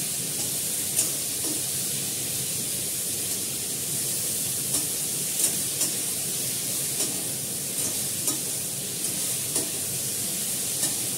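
Water poured into a pan of sizzling vegetarian curry sends up a steady, bright hiss and frying crackle, with small soft taps of stirring scattered through, and no one speaking.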